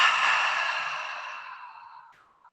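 A deep, breathy exhale from a yoga practitioner on a mat, loud at first and slowly trailing off over about two seconds, ending with a faint soft catch of breath.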